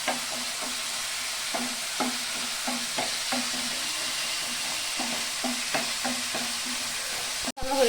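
Masala with Kashmiri chili powder frying in a pan for a soyabean egg curry, a steady sizzle under a regular rhythm of spatula strokes scraping the pan, close and continuous, ending in a brief sharp clack.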